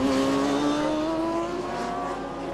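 Race cars in the RGB Championship at Donington, exiting Redgate Corner, with a loud, close engine note that climbs steadily in pitch as a car accelerates past, racing sound continuous throughout.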